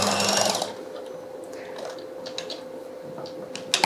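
A sewing machine stitching a trouser hem runs briefly with a close, whirring rattle that stops after under a second. A few faint clicks and handling noises follow in the quiet.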